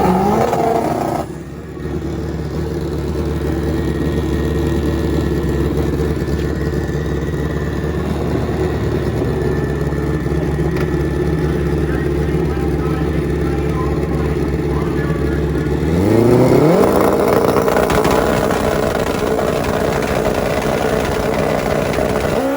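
Loud drag racing motorcycle engines idle steadily with a deep rumble at a motorcycle drag race, then one revs up sharply near the end; a crowd murmurs faintly underneath.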